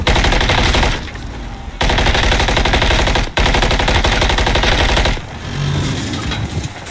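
Rapid automatic gunfire from a video game, loud and sustained in long bursts with a couple of brief breaks and a quieter stretch near the end.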